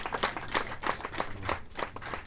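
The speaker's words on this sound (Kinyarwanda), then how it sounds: "dukomere Imana amashyi" A church congregation claps in rhythm, sharp repeated handclaps in a loose steady beat, moderately close and fairly quiet, with no talking.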